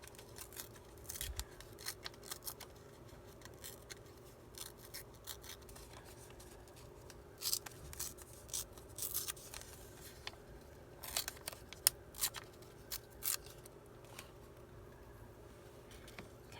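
Paper being torn by hand for a fall-themed card embellishment, heard as scattered crisp rasping and tearing bursts, close and quiet against a faint steady hum.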